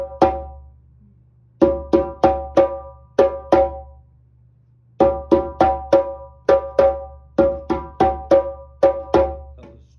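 Open hand strikes on a djembe played in a drum class, repeating a tone-tone-slap-slap pattern in quick, clean groups of four with short pauses between phrases, close and crisp.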